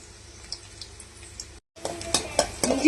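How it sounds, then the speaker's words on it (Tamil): Finely chopped garlic and ginger sauté in oil, a quiet sizzle broken by a short pause, then louder sizzling with repeated scraping and tapping of a spoon in the pan. "பூண்டு நல்லா வதங்கட்டுங்க"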